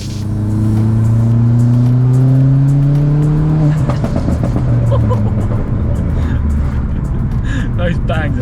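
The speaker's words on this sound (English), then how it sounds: "Those bangs are mad, aren't they?" A Ford Fiesta ST MK7 hot hatch engine revving hard with rising pitch, then crackling exhaust bangs and pops, close and loud throughout.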